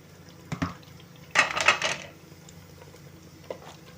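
Chicken pieces are tipped into a pot of oily masala for a garlic chicken curry, giving a few brief clatters of spoon against pot with a short burst of scraping and stirring, then mostly quiet with one light knock near the end.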